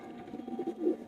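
A black teddy pigeon pair coos softly, a few low throaty murmurs rising and falling over about a second, faint and close with no other sounds.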